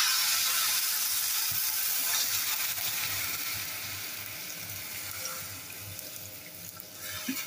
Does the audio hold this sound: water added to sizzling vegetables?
yes